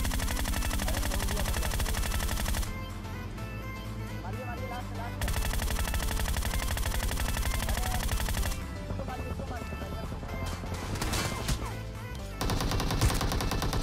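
Groza rifle gunfire in PUBG Mobile comes as loud, rapid sprays of automatic shots in several long bursts, broken by short quieter gaps with game ambience.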